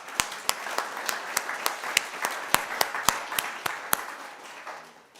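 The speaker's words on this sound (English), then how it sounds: "how about a big clap out for those people?" A congregation at a Unitarian Universalist Sunday worship service in Las Cruces claps for newcomers, a steady patter of many hands with sharp individual claps standing out, filling the room for about five seconds before tapering off.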